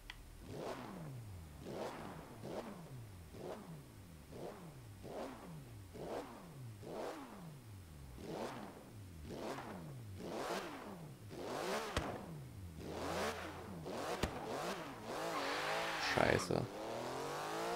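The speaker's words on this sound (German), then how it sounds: "6 Zylinder, 4 Liter Hubraum, 460 PS, Heckantrieb, kein Turbo, nix, schöner Saugmotor." A naturally aspirated 4-litre six-cylinder, 460 hp rear-drive car in Forza Horizon 3 revs repeatedly through rising and falling sweeps, quiet and under ongoing talk, growing busier toward the end.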